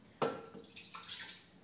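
Water is poured into a mixing bowl to start a dough, a sudden splashing onset followed by a short gurgling pour that fades away, close and quiet.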